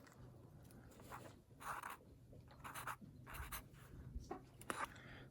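Pen scratching across paper while hand-writing measurements at an air rifle shooting bench, with short scraping strokes in several bursts, close and fairly quiet over a low background hum.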